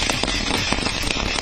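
Diwali firecrackers burst in a dense, continuous crackle of rapid pops at a residence in Chennai, loud and unbroken.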